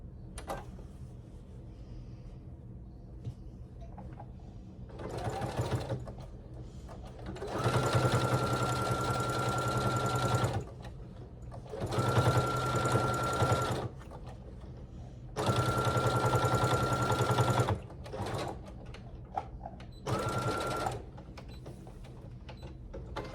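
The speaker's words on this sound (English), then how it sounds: "I am going to sew right under that seam." A sewing machine stitches a tote bag seam in four separate bursts of rapid whirring, each a few seconds long, with quiet pauses between them.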